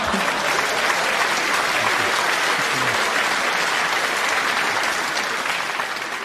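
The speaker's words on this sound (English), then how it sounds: "I'm pretty sure some of the guys started clapping before the end of that joke" A comedy club audience in Dublin bursts into sustained applause after a one-liner, loud dense clapping filling the room from start to finish with a few cheers mixed in.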